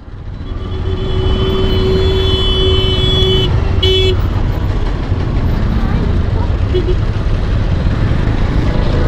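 Vehicles jammed on a village road honk under a steady roar of engines and traffic, with one long horn blast for about three seconds, then a short second toot; voices seem to sound faintly in the mix.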